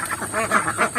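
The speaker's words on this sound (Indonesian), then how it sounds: "24 jam bebek-bebek ini berada dalam kandang seperti ini" Ducks kept in a raised stilt coop on an intensive farm quack in a steady series of nasal calls, several birds overlapping at close range with no talk over them.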